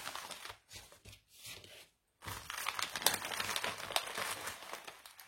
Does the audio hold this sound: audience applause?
no